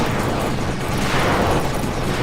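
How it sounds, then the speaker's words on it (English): Enemies being shot in the Tempest 4000 video game: a loud, continuous wash of blasts and explosive bursts with a roaring, dense texture and no pauses. "as I shoot those enemies, that is a real good video game sound that comes out of them"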